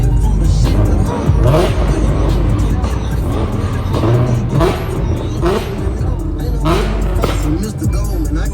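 Car engines rev at a trucks-versus-cars meet, a steady loud roar of motors with repeated swells over crowd noise throughout.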